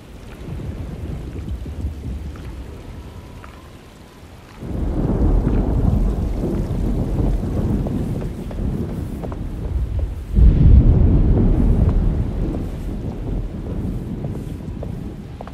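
Thunderstorm in the video game Alone in the Dark, with rain and wind roaring steadily and two heavy rumbling thunder surges that swell loud and low, with no voices.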